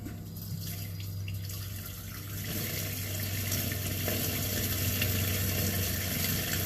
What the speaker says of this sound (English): We'll run a little bit of water, down the line